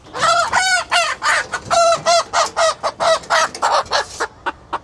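Chickens cluck loudly and close in repeated, rhythmic bursts, with occasional rooster-like calls among the flock, no talking.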